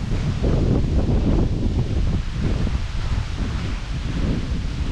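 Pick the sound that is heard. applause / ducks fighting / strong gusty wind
strong gusty wind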